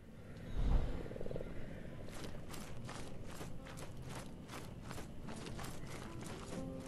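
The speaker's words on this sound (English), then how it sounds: "Friggin' giant frog." Giant frog creature in the video game Mortal Shell croaks with a loud, deep burst near the start, followed by a steady stream of low, rough game-ambience rumbling and repeated thuds.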